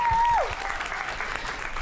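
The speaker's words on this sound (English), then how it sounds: "we are going to welcome Samantha Wills to the stage with a big round of applause." Audience applause welcoming Samantha Wills to the stage: loud, dense crowd clapping throughout, with a brief falling whistle-like tone at the start.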